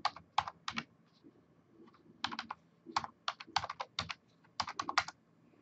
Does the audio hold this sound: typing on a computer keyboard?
yes